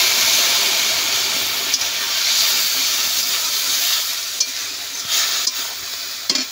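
Masala-grinding water poured into a pan of cooking okra, raising a loud, continuous hissing sizzle and steam with a few faint clinks of stirring, close up.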